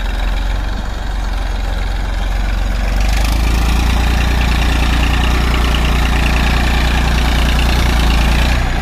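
Massey 1035 DI tractor engine running steadily, close and loud, a continuous low rumble that rises slightly in intensity about three seconds in, with no talk.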